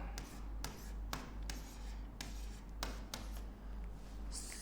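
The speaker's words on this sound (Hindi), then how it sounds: "मैं क्लास लिख रहा हूं" Pen or pencil writing by hand during a class lesson, a steady scratchy scribble with sharp tapping strokes over a low constant hum, close and fairly quiet.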